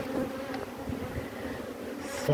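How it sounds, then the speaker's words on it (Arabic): Honeybees buzz around an opened beehive brood frame in a steady, close drone with no voices. "شاهد معي أخي النحل"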